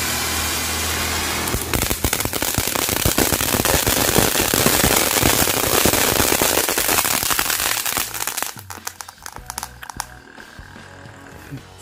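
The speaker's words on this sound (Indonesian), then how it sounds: "Sekarang kita cobain mercon tora-tora nih guys." A rapid string of loud tora-tora firecracker bangs crackles continuously for several seconds, then stops abruptly, leaving a few scattered pops and quieter background noise.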